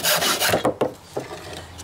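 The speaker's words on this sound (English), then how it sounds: "all you really need is a hacksaw. What you're going to do is cut the handle off." A hacksaw rasps through the handle of a squash racket in quick, close back-and-forth strokes, a gritty scraping that pauses briefly and resumes.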